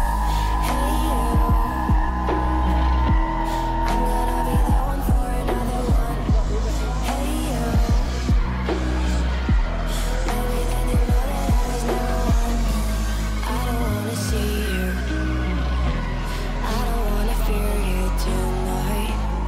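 A Toyota Supra drift car with a 2JZ-GDE 3-litre twin-turbo engine and 6-speed manual revs and drones loudly up close, its engine note rising and falling, with brief tire squeals breaking in.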